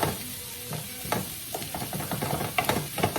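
Cabbage cooks in a pan with a steady close sizzle and frying hiss, broken by occasional clinks and scrapes of stirring, and no talking.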